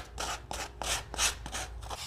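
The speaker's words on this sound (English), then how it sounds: "So I like to use a sanding block. So I'm just gonna sand away." A sanding block rubbed back and forth over the wooden edges of a small craft piece for a rustic look, giving repeated close rasping strokes of steady rhythm with no talk.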